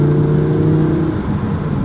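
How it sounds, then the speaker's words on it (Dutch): Loud, steady engine drone with a strong low tone from an Audi R8 V10 of 610 hp with its sport exhaust mode switched on, heard up close from inside the car. "Je hebt ook een knop om je uitlaat luider te laten klinken. Sport. En direct een luider geluid"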